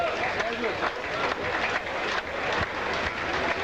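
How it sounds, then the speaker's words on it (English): Steady applause from a large crowd at a 1982 Sri Lanka v England cricket Test match, continuous and fairly loud, with a commentator's voice running over it. "You can hear the applause."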